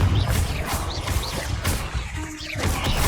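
A Confringo blasting curse cast in Hogwarts Legacy, a sharp crashing burst of magic over dense game effects and background music, with a hard smash near the start and another flare of impact toward the end.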